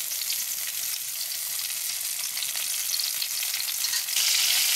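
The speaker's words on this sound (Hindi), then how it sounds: "इसको इस प्रकार से ढक के धीमे धीमे आंच पे फ्राई करेंगे" Stuffed eggplant fries in oil in a covered pan over low heat, giving a steady, close, bright sizzling hiss that swells slightly at the end.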